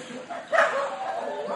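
A gentle, placid rescue dog awaiting dinner at a Philippine animal shelter gives a short yip-like bark that rises midway through, with a person talking softly around it.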